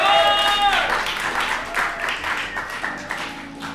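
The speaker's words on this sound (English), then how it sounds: "Can we just give a round of applause for Jacob" An audience gives a round of applause for a music maker at a spoken-word poetry event. Dense, steady clapping starts as a sustained musical tone fades and carries on for several seconds.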